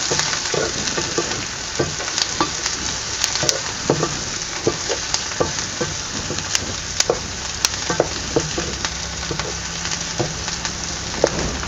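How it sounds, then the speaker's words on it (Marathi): Chopped onions frying in a pan for Vidarbha-style wheat flour upma (ukadpendi), with a loud, steady close-up sizzle and scattered crackles and pops throughout. "हे बघा आता कांदा सुद्धा आहे ना परतलेले आहे"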